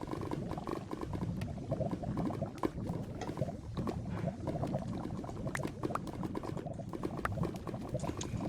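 Water flowing in a Minecraft-style block game, heard as a steady, bubbling, gurgling wash that runs continuously for several seconds with no voices.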